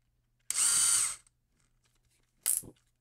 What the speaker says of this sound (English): Stick your motor rotor in your drill.